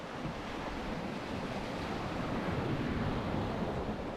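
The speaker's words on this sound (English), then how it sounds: "Ooh, that's a big wave." Ocean waves surging around a sailing boat surfing in 30-knot Atlantic winds, a continuous loud rush of wash and wind noise that swells slightly toward the end, with no voices.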